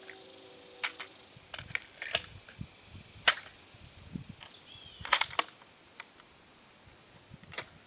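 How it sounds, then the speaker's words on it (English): Five rifle shots from a Mossberg MVP Varmint without a compensator, fired outdoors in hot weather from a corn sack rest. The sharp cracks are spaced over several seconds among smaller ticks and clicks. "Gonna do 5 shots and then put the comp on and do 5 more."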